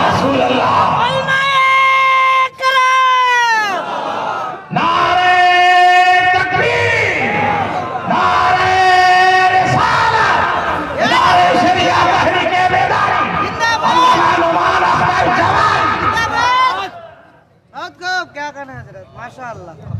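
A large crowd at a religious conference in Jharkhand shouts back a Naara-e-Takbeer chant in loud, drawn-out collective calls, repeated in several surges, with a voice leading over a public address system before trailing off at the end.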